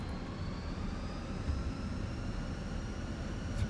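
Jet engines hold a steady, low roar at takeoff thrust in a flight simulator, a continuous rumble with faint tonal whine and no speech.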